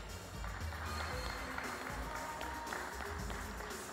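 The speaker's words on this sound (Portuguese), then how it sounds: "Palmas para o Guilherme" An audience at an agricultural awards ceremony applauds a winner called forward, a faint, distant spread of clapping from many hands, steady throughout with a little crowd murmur underneath.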